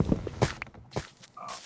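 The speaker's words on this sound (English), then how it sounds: "I just didn't think they were gonna be creeper footsteps" Creeper footsteps in Minecraft approach as a few soft, uneven steps close by, with brief muffled thumps and shuffles spread across a quiet moment.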